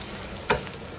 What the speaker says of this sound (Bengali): গরম মাস্টার্ড অয়েলের মধ্যে রসুন, পেঁয়াজ এবং এই যে এখন কাঁচামরিচ দেওয়া হবে